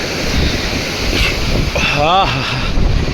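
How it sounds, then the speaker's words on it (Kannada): Strong sea waves on the coast near Chennai in November or December crash and roar continuously with gusting wind buffeting the microphone, loud and close, while a brief voice rises in the middle. "ಇಲ್ಲಿ ನೋಡಿ ವೇವ್ ಏನು ಜೋರಾಗೈತೆ ಅಂತ."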